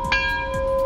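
Bell chime inside a 2015 BMW X5 AWD, a single clear ringing strike with sustained tonal overtones that decays slowly, heard close and alone.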